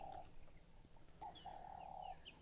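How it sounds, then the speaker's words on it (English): Faint in the background, a grey go-away bird, also called a grey loerie, gives drawn-out nasal calls, with thin chirps from other birds over soft ambient noise. "Can you hear the go-away bird in the background?"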